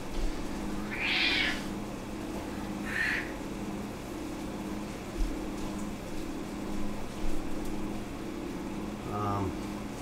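A house cat meows a few times, short mid-pitched cries with pauses between them, heard close by in a home kitchen over a low steady room hum.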